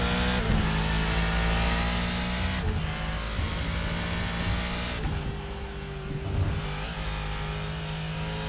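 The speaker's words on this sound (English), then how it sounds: "Love the noise of these old-school race cars." Loud, continuous old-school race car engine roar in the iRacing simulator at Portimão, with rising and falling revs and gear changes, close and unbroken.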